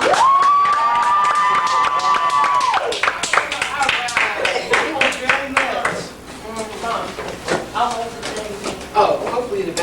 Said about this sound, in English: Could you give her a loud applause?